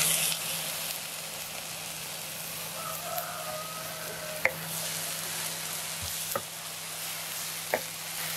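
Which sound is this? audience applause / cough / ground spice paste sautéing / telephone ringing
ground spice paste sautéing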